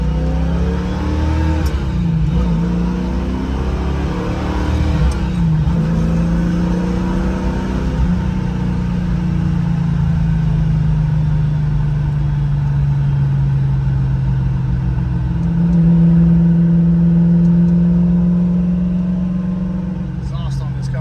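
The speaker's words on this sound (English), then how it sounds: "we're gonna row through the gears a little bit" A 1967 Shelby GT350's engine drones and rises and falls through four-speed manual gear changes, revving up then dropping, steady and loud throughout.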